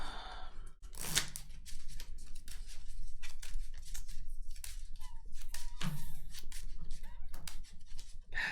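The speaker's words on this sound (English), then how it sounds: "I'm gonna shuffle." Keyforge cards being shuffled by hand during a tabletop game, soft papery riffles and flicks repeating close up, with a few brief sharper snaps and quiet background noise.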